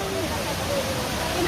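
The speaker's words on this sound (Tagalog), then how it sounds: "Tinoyan Falls." Tinoyan Falls waterfall makes a steady, broadband rush of falling water that stays loud and even throughout, with a faint voice mixed in under the roar.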